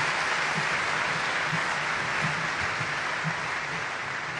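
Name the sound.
audience applauding the first lady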